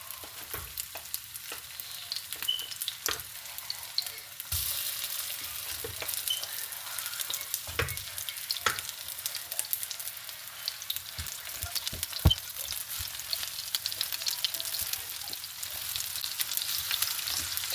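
Dark soy-coated chicken pieces fry in a pan for a Chinese-style honey garlic chicken, a continuous crackling sizzle broken by sharp clicks and clatters of stirring, close and fairly loud with no talking.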